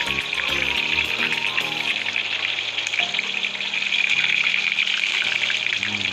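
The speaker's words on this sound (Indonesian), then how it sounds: "sekarang kita goreng tomatnya. Jadi tomatnya ini digoreng tersendiri ya." Tomatoes frying in a pan of hot oil for Lamongan-style pecel lele, a steady loud bright sizzle throughout with faint low background tones underneath.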